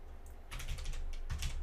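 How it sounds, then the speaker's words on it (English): Typing on a computer keyboard while setting up a CNC tool change program sounds as a faint, irregular run of soft key clicks in small bursts, with no talking. "I'm typing what I'm saying"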